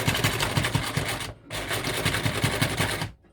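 Sewing machine running in two steady rhythmic bursts with a short pause between, tacking pleats in place on a fabric face mask, close and loud with no talk.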